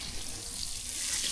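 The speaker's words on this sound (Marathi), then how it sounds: "अरे ते मच्छी पहिले एक साईड भाजू दे ना. मग पलटी मार. अरे तवा मस्त गरम आहे एकदम." Fish fries on a very hot griddle over a clay stove, giving a steady, close, broadband sizzling hiss that continues without a break through the short moment.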